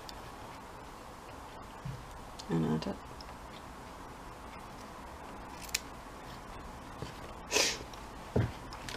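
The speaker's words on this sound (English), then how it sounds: "We'll cut a wee bit of this lace" Scissors snipping through a piece of lace during a craft project, a few short sharp cuts spaced apart, close up, with brief talk and a sniff in between.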